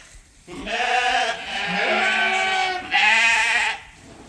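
Several sheep bleat in a barn in long, wavering calls, close and loud, one cry running into the next with brief pauses between.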